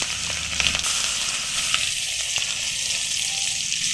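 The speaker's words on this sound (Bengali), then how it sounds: "ওই তেলে দিয়ে দেবো এখানে দুটো মিডিয়াম সাইজের পেঁয়াজ" Two medium onions sizzle in hot oil left over from frying prawns, in a prawn and fig curry. A steady, close frying hiss carries faint crackles and pops throughout.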